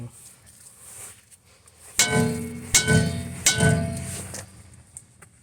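Three sharp metallic hammer strikes on a rusted rear brake rotor of a 2011 Lincoln MKX ring out about a second apart, each leaving a brief clanging resonance, after a quiet start.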